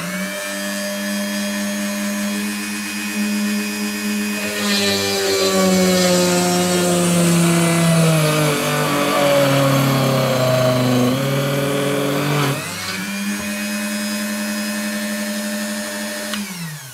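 A Dremel rotary tool mounted in a 220 Workstation drill press, set to speed 15, whines steadily with a loud, even tone. Its pitch sags and roughens for several seconds as the bit bites into the workpiece, then recovers to the free-running whine.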